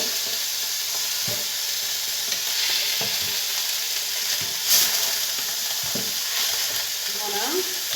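Chicken drumsticks seasoned with pepper sizzle steadily in a pan, a constant bright frying hiss broken by a few soft knocks and stirring clatters, close and without talk.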